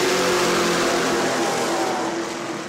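Several race car engines roar and rev together at close range, a loud sustained drone that eases slightly toward the end.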